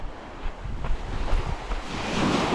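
Surf washes up on the shore at Workington Beach on the Cumbria coast, a close, rushing swash that builds toward the end, with wind buffeting the microphone.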